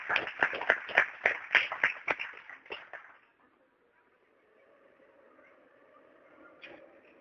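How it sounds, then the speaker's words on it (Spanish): A church congregation gives a short round of rhythmic clapping during a worship service. The claps are brisk and evenly paced for about three seconds, then fade into a quiet, hollow room tone. "Un aplauso a Jesús, hermano."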